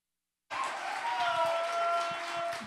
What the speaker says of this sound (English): Give a loud round of applause for Mr.